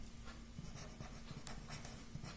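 Chalk or marker strokes on a board during a Hindi-language maths lesson on real-number properties, heard as repeated short scratching taps at close range with a steady low hum underneath and no talking.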